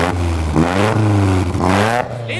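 An Opel Astra engine, just restarted after nearly two years, revs up close by in a steady sustained drone with rising harmonics, and a voice speaks over it.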